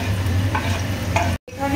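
Chopped onion and garlic sizzling in hot oil for homemade pasta, a dense continuous fry with a stirring clatter near the end, heard alone without talk.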